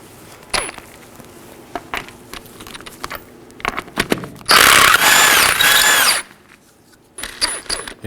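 An impact wrench spins the 19mm lug nuts off the front wheel of a 2018-2024 Chevrolet Equinox, giving a loud, sustained buzzing whine of about two seconds. Clanks and metallic handling noises come before and after it.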